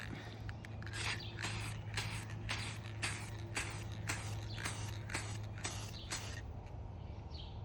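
Several short bursts of spray paint hiss in a regular rhythm onto a rain chain, each lasting about half a second, over a low steady hum.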